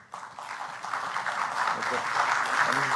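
An audience in a legal conference hall breaks into applause to welcome a speaker, the clapping swelling from a thin start into a dense, sustained round over a few seconds.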